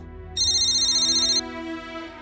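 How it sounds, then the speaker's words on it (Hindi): A single electronic phone ring trills for about a second, loud and close, over a low background hum. "जाकर फोन उठाओ"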